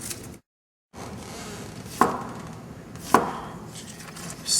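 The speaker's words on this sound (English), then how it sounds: "It's gonna be chopping up all these vegetables." Vegetables such as zucchini and red pepper being chopped for ratatouille, with two distinct sharp knife strikes on a board against steady background noise and a brief dropout near the start.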